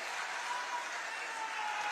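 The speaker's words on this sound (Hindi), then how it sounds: "एक बार जरा दो जोरदार तालियों से आप अपने प्रणाम माननीय मुख्यमंत्री महोदय तक पहुंचाएं।" A large outdoor crowd at a political rally at Bednapur ground in Mahsi applauds in a steady, dense wash of clapping, continuous and fairly loud throughout the brief burst.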